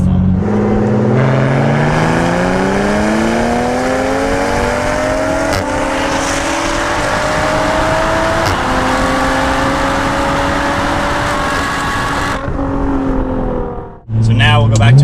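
A Nissan GT-R with an anti-lag tune accelerates hard, its engine note climbing steadily through the gears for a long, loud stretch, then cutting off abruptly before a brief low rumble returns.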